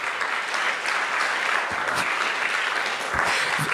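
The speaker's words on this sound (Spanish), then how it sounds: "Oh, dale ese aplauso fuerte," Congregation clapping loudly during a Sunday church service, a thick, continuous wash of applause held at an even level for a few seconds with no speech over it.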